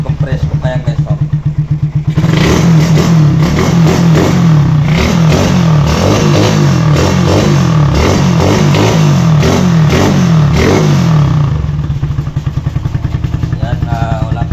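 A Suzuki Raider 150 motorcycle engine revs up loudly and holds a rough, throbbing roar for several seconds before dropping back to a steady idle.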